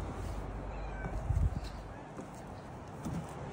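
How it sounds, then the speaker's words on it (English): A cat meows nearby, a short call standing out over quiet outdoor background noise. "And there comes the mama kitty"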